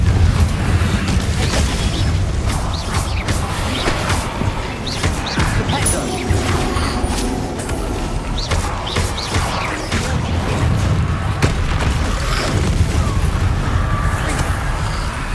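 Bombarda and Confringo spell explosions from the video game Hogwarts Legacy, a loud, dense barrage of crashing blasts and booms that keeps going without a break for the whole stretch.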